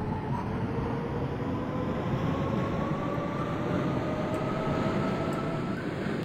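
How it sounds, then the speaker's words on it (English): A London Underground District Line C Stock train departs in the Open.BVE train simulator from Edgware Road, heard from outside as a steady rumbling roar with a faint rising motor whine, continuous and moderately loud. "Let's watch the train actually depart outside here from the actual exterior view."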